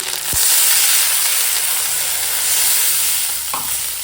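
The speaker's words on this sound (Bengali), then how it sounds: "আদা দিয়ে দেওয়ার সঙ্গে ভালো করে একটু আলুটা ভেজে নিচ্ছি" Potato pieces fry with ginger in a pan, a loud, close, continuous hiss and sizzle with a couple of sharp clinks from a stirring utensil and no talk.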